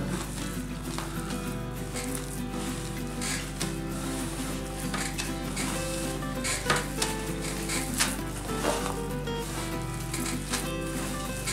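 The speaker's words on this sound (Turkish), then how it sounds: "Bunları karıştırıyorum." Ingredients for içli köfte are stirred in a pan, giving a soft continuous sizzle with irregular scrapes and light clinks of utensil against metal, faint and close.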